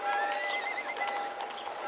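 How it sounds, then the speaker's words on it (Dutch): Horses of a horse-drawn tram at a turning point on the Dam in Amsterdam around 1900, a brief faint whinny with light hoof clopping, heard alone and distant. "De paarden worden op dit keerpunt opnieuw ingespannen."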